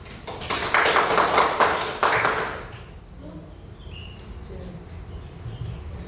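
Applause in a classroom, with a group clapping loudly and quickly for about two seconds before it fades into quiet room noise and faint voices.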